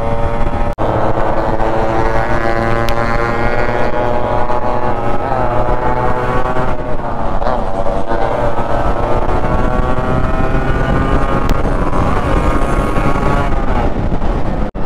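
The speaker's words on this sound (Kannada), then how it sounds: "ಏನ್ ಸಕದಾಗ ಬರ್ತಿದಾವ ಗಾಡಿಗಳು." A group of Yamaha RX two-stroke motorcycles on an Independence Day ride, their engines droning loudly and steadily throughout with heavy wind rush, no speech.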